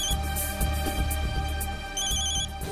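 A telephone rings on and on with repeated electronic trilling bursts, continuing unanswered at moderate volume with no voices.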